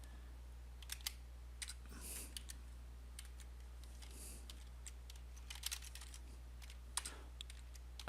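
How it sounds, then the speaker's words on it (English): Faint, sparse keystrokes on a computer keyboard as a command is typed at a Windows workstation in a network lab, scattered clicks over a steady low hum, with no talking. "Type in command."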